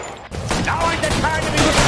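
A burst of rapid gunfire in the video game L.A. Noire, loud and dense, with overlapping shots and game voices mixed in throughout.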